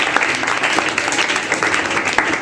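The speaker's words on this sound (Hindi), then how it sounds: "इनके नाम पर जोरदार ताली बजनी चाहिए।" A crowd of schoolchildren applauds loudly and continuously in a school gathering, a dense close wash of clapping that fills the whole moment.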